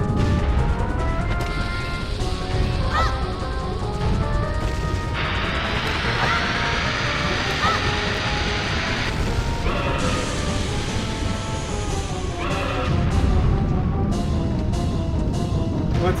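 Bomb explosions in the video game Ocarina of Time, with repeated booms and crashes over game music and sound effects throughout a long stretch, fairly loud and busy.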